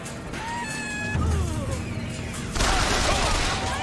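Gunfire from the BioShock Infinite video game, steady muffled shooting and crashing among game music and tonal effects, getting louder and denser partway through.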